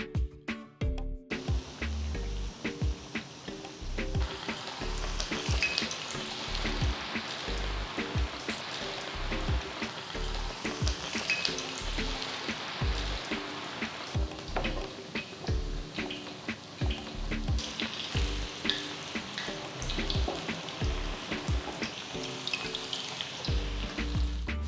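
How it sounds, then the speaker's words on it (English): Mushroom kaalan mixture deep frying in hot oil in a kadai, a dense continuous crackling sizzle with popping bursts, close and steady throughout, no voices. "Once the oil is hot, gently drop the mixture to the hot oil."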